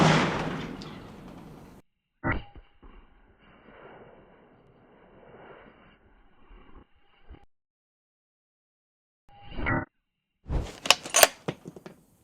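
A .50 caliber sniper rifle fires a silver tip bullet into an engine block outdoors. A loud booming blast decays away, followed by a quieter reverberating tail and later sharp impact bangs.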